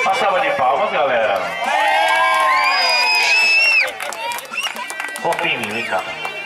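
Party guests at a birthday celebration cheer and whoop loudly, high voices rising in excited shouts with scattered clapping and lively chatter underneath.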